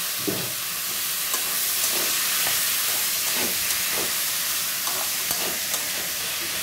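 Potatoes and pointed gourd frying in hot oil with turmeric and dried chili give a steady close sizzle and hiss, with soft scraping stir clicks recurring every second or so throughout.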